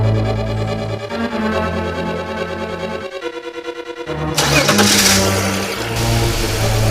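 A BMW 325xi E46 with the M54 engine cranks and starts, then runs at a steady idle with a brief revving surge partway through, close and loud.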